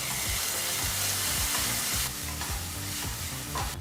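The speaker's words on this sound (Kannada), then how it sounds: "ಈಗ ಇಲ್ಲಿ ಟೊಮೊಟೊ ಹಣ್ಣನ್ನು ಸಹ 2 ನಿಮಿಷಗಳ ಕಾಲ ಚೆನ್ನಾಗಿ ಫ್ರೈ ಮಾಡಾಯಿತು" Finely chopped tomato fries in a pan with a loud, continuous sizzle, as a utensil scrapes and stirs in a steady, repeated rhythm.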